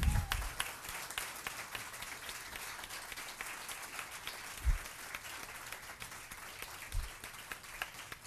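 Audience applause for a filmmakers' panel at a film event, steady dense clapping from a crowd running throughout at moderate distance, with a few louder thumps near the mic.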